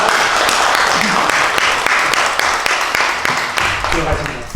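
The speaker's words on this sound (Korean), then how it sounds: "힘찬 격려 박수로 인사할 때 여러분 부탁드리겠습니다" An audience at a Korean Liberation Day and National Founding Day ceremony gives loud, dense applause, a continuous wash of clapping with distinct sharp claps and a voice briefly audible near the end.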